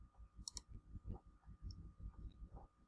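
A computer mouse clicked on a start button, heard as faint light clicks over a quiet low background hum.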